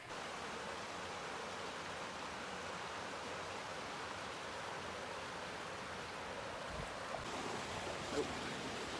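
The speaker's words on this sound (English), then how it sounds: "Checking out the creek right now" A creek in the Cucamonga Wilderness of Southern California flows in a steady, unbroken wash of rushing water, close and fairly loud, with no voices over it.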